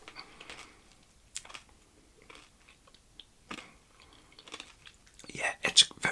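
Crunchy Ritter Sport salted caramel chocolate being chewed close up, with quiet crisp crunches at irregular intervals that grow denser and louder toward the end.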